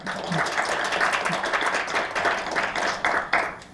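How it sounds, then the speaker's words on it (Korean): Audience at a Korean forum on regulating public-interest foundations claps for a speaker, a fairly close and steady patter of many hands that holds for several seconds, with a few sharper individual claps near the end. "다시 한번 박수 부탁드리겠습니다"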